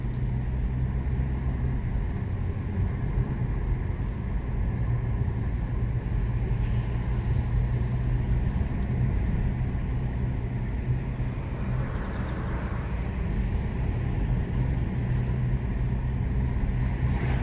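A car driving from Corazon de Oro into Puerto, a steady low engine and road rumble heard from inside the cabin, constant throughout with a faint swell of passing noise near the end and no talk.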